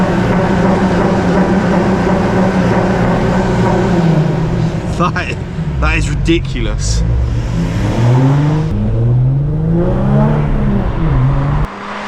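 Diesel-powered Nissan GT-R engine revving loudly and continuously, its pitch climbing and falling through several rises, with a man briefly exclaiming over the noise near the middle.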